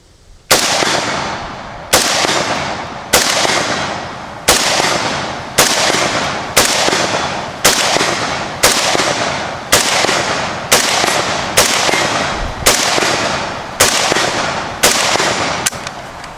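Vepr AK rifle firing live rounds outdoors, thirteen loud sharp shots spaced at a slow, steady pace of roughly one per second, each with a ringing decay, no voices.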